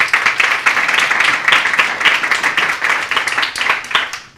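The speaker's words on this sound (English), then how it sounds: "Give her a round of applause" An audience at a college writing center reading event breaks into applause, a dense, sustained wash of many hands clapping at moderate distance that fades at the end.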